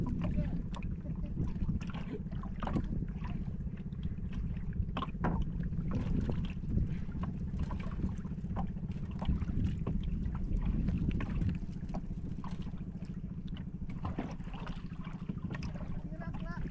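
A fishing boat engine drones steadily and loudly the whole time on the Pacific, its low rumble mixed with wind buffeting the microphone.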